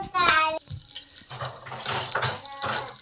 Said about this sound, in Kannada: ಇದಕ್ಕೆ ಎಣ್ಣೆ ಹಾಕೋತಾ ಇದ್ದಾರೆ.